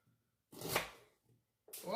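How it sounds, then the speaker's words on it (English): Onions chopped by hand with a knife on a cutting board in a home kitchen, a couple of close, scraping chops separated by a pause, with a quiet voice briefly heard. "Just chopping the onions on up over here."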